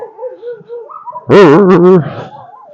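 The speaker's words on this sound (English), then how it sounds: "Why is it with dogs and barking at fences?" A wolf-dog barks at a fence on a snowy Russian homestead at -12°C, giving a short burst of loud, close barks and yips. Quieter whining and vocal sounds come before and after.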